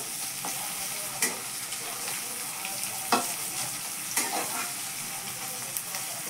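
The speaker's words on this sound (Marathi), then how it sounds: "एक 5 मिनटं आपण हे फ्राय करून घेतलेली आता कारली." Stuffed bitter gourds frying in a pan, a soft continuous sizzle with occasional sharp crackles and pops at a distance, no talking.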